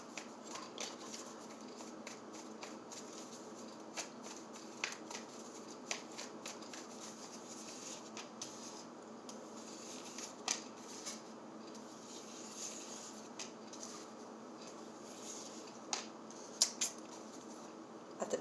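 Tarot cards are shuffled by hand in a quiet room, giving soft repeated riffling and flicking sounds close to the microphone, with small clicks and taps scattered through the whole stretch.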